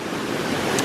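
Waterfall at Cheaha High Falls in Alabama pouring into a pool, a steady broadband rushing wash, loud and continuous with no voices.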